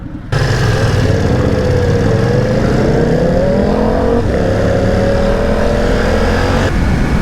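A 2020 BMW F900R motorcycle rides on an open road, its engine droning loud and close with a steady, slightly rising pitch and a brief shift partway through.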